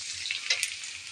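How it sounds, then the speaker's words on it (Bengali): Fish and onion frying in a wok give a brief, close burst of bright crackling sizzle with a few stirring scrapes, steady and alone. "আর এদিকে পেঁয়াজ ভাজা মাছ ভেজে নিচ্ছি।"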